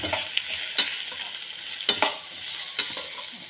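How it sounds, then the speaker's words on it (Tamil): Chopped onions sizzle steadily in a hot pan, with occasional scraping stirs and soft pops over a constant frying hiss. "வெங்காயம் வதங்கிட்டுருக்கு"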